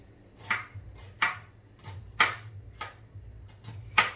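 A knife finely chopping onions on a board, with about seven distinct, fairly close cuts landing at a slow, uneven rhythm.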